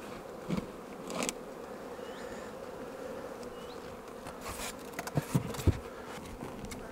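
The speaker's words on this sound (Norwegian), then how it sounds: "Nå ser vi alle trekkbiene som er på vei hjem med forskjellige gulfarver på beina" Honeybees flying home to the hive, pollen on their legs: a dense, continuous buzz of many wings close by, with a few light taps and bumps near the end.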